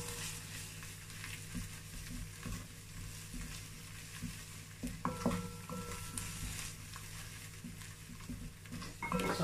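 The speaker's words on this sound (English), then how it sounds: "then you also fry the tomato paste for about 3 minutes" Tomato paste frying in hot oil for a home-cooked Christmas recipe, giving a steady, close sizzle with occasional stirring scrapes and a few brighter bubbling pops.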